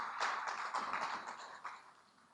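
Faint, scattered handclaps patter from a small group at a distance, tapering off toward the end.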